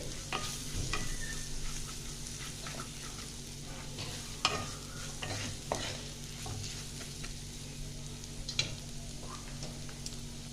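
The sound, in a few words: spices frying lightly in a pan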